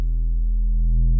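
A clean trap 808 bass made in FL Studio, with no distortion, sounds as one sustained deep sine tone held steady for just over a second, loud and alone.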